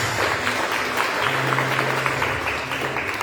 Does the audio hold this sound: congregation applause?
yes